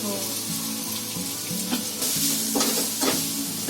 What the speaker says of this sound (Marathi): हे सगळं तेलामध्ये फ्राय करून घेऊया आपण